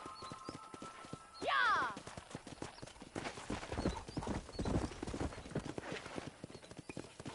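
Horse hooves clip-clop rhythmically while cattle are herded in a Wild West video game, a quick steady galloping patter with a horse's whinny early on and brief shouting over it.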